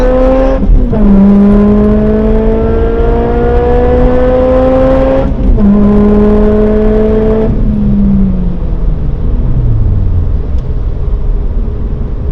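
A car engine revs hard through two gear shifts on a wet, bumpy back road, pitch climbing steadily each time, then eases off as the engine winds down; loud and close throughout.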